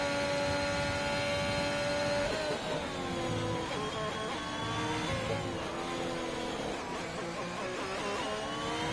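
A GP2 race car in a racing video game, on the Japan circuit, struggling with heavy understeer through a set of corners: a loud, continuous engine note that rises and falls with a shift and shifting revs, with no voices.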